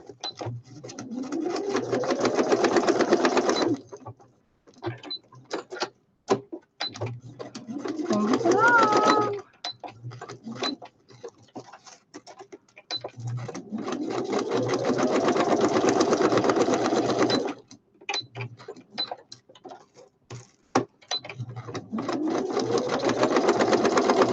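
A sewing machine straight stitches around the edge of glued paper flowers on a woodland-themed journal ephemera piece. Several loud whirring runs of a few seconds each are separated by pauses filled with rustling and handling.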